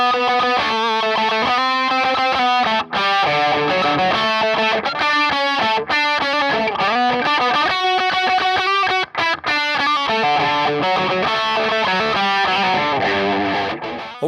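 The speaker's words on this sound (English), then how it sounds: "By adding a clon style pedal in front of the overdrive channel of the amplifier, I'm able to get a really nice mid-rangey sound" Yamaha Pacifica 212VQM maple-top electric guitar played through a Klon-style pedal into an amp's overdrive channel, giving a continuous mid-heavy distorted tone with chords and single-note lines, played with no talking.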